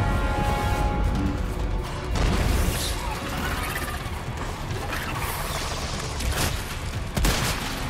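Dense, loud gunfire in Resident Evil 4 Remake's Separate Ways DLC on PS5, with rapid bursts and mechanical clatter, sustained throughout over a busy background mix.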